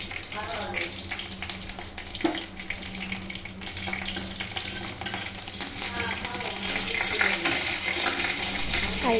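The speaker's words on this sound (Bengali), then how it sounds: "আর এই তেলে ভালো করে ডিপ ফ্রাই করে নিচ্ছি" Neem leaves deep frying in hot oil give a steady, close bubbling sizzle that grows slightly louder through the clip, along with a few stirring clinks.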